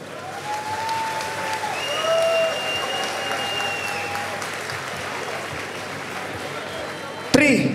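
An arena crowd applauds after a kickboxing fight, a steady wash of clapping held for several seconds under an announcer's amplified voice, with a sharp louder burst at the very end.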